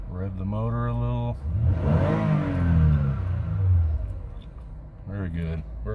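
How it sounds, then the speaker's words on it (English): A 2011 Toyota Sienna engine revs up and settles under a voice, a mid-pitched rising and falling whir close by. "Let that warm up for a minute and then rev the motor a little."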